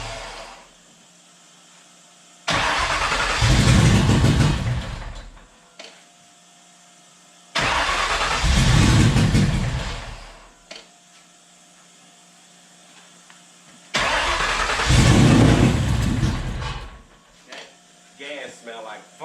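A Ford Coyote V8 swapped into a Foxbody cranks in three long bursts of starter whir, each a few seconds long, loud and close, with quiet gaps between and a voice speaking during the attempts.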